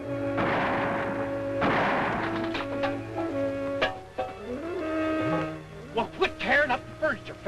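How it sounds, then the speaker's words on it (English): A single gunshot, fired from over a hill in a western setting, cracks as a brief, distant thump against a tonal music-like background. "That shot came from over the hill."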